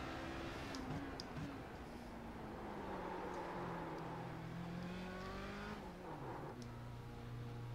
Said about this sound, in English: few more LMP2s coming in.